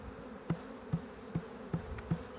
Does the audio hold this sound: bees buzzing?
yes